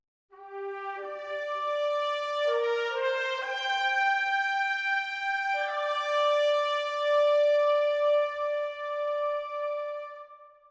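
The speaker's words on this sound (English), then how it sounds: "Let's start by making our trumpet section" Two trumpets play together within an orchestral arrangement, sustained brassy notes stepping through a short phrase and then holding a long final tone, clear and moderately loud with no voices.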